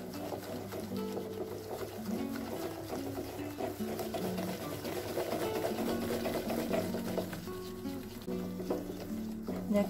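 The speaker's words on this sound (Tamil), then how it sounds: "இந்த கெஸ்த சுகர்லாம் ஒரு முக்கால்வாசி கரையிற வரைக்கும் நல்லா இதை பீட் பண்ணிக்கோங்க" Sugar mixture for a kesari cake batter is beaten by hand in a bowl, producing a steady close scraping and patter that runs continuously with a faint hum beneath.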